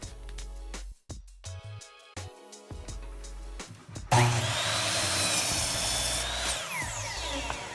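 Steel pivot knuckles for a squat rack leg extension are cut about six inches long: a few sharp tool knocks and short bursts, then a loud, steady, high-pitched metal-cutting grind up close.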